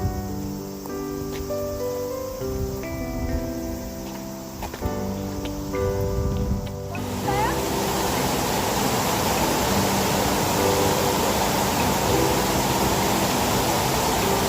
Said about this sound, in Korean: 이게 무릉 폭포입니다, 여러분.